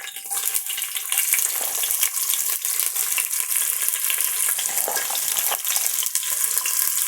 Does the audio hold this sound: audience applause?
no